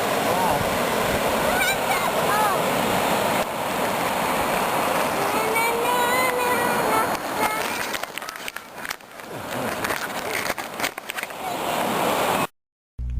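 Ocean waves wash in and out at secluded Lagoon Beach in Trinidad, a continuous broad roar of surf with wind noise and people talking now and then.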